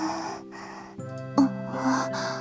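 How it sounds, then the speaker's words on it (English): Heavy breathing in the visual novel If My Heart Had Wings, a couple of close breathy gasps and snorts layered over a soft sustained music bed. "Heavy breathing."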